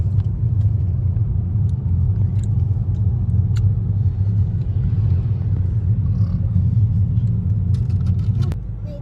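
A car creeping stop-start through heavy traffic near a hotel, heard from inside as a steady low engine and road rumble, fairly loud and unbroken, fading slightly at the end.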